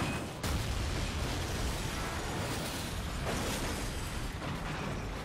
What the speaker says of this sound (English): That's not a nice airstrike